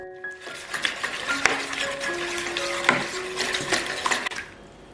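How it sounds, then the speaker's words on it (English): Baking soda and warm water being stirred in a basin, with repeated scraping and clinking strokes of a utensil against the container and soft splashing, steady and close with no talk. "Stir the mixture evenly."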